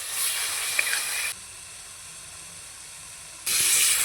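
Spice masala with sugar being sautéed in a pan for a besan and egg curry: a bright, hissing sizzle at the start drops to a faint simmer, then flares loudly again at the end.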